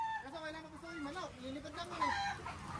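Native farm chickens cluck and squawk as they are caught in a rural field, a close run of wavering calls with a louder cry near the end, while people talk softly underneath.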